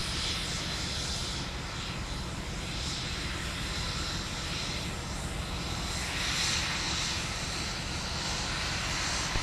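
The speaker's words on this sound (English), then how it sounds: "So this aircraft is an Embraer Phenom 300." An Embraer Phenom 300 business jet during pushback at a snowy winter airport in Minneapolis, its engines giving a steady, moderately loud whine and roar that holds level throughout.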